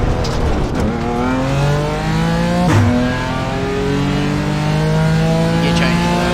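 A GT4 race car engine in the iRacing sim revs up through the gears, rising whining tones broken by a sharp gear change, loud and continuous with no talk.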